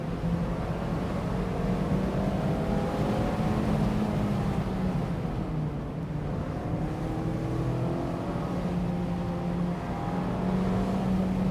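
A Mazda Miata's engine revs hard toward its 7,500 RPM redline, a continuous loud droning tone that climbs and falls in pitch through repeated sweeps, with steady road and wind noise beneath and no talking.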